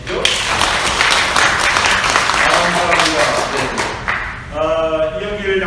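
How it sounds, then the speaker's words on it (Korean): A church congregation claps together during a Korean Methodist Sunday worship service, a dense, loud burst of applause filling the room for several seconds before it thins out and a voice begins speaking. "박수 한번 해주시죠."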